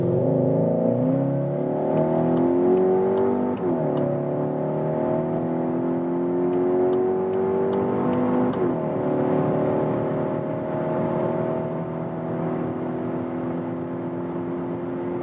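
A 2021 Skoda Octavia vRS iV plug-in hybrid accelerates hard, climbing through the gears from 40 to 170 km/h, with a steady whine rising in pitch and a few faint ticking clicks, no talking.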